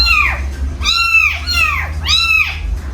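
A cat meows three times in a row, each call drawn out and rising then falling, loud and close over a steady low hum.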